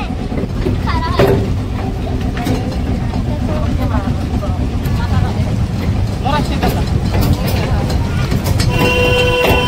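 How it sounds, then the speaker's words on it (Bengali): Steady loud rumble and rattle of a moving passenger train heard from inside a carriage, with continuous wheel and track noise, brief squeals and a high whine near the end. "তো এখন আমি চলছি ট্রেনে।"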